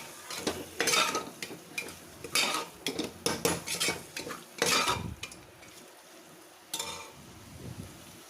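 Metal utensils scrape and clang against a huge biryani pot as prawns are mixed with biryani masala, in repeated loud bursts of stirring separated by short pauses over a faint sizzle.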